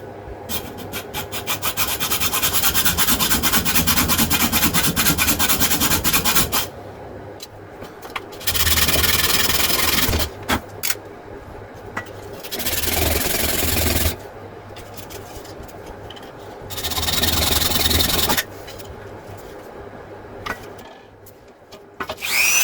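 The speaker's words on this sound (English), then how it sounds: "I could file 2 little slots there so that it clips in." Hand file rasping slots into a small Land Rover part in bursts of rapid back-and-forth strokes, loud and close, with short quiet gaps between spells of filing.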